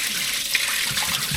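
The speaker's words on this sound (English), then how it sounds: "Then we'll do one final pour." Water trickles and splashes as it is poured over pistachio shells in a bowl, a soft, steady pour that runs throughout at fairly low volume.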